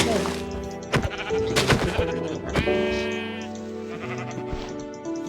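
Sheep bleating in Minecraft, several short synthetic bleats close by, mixed with game effects and a voice talking over them.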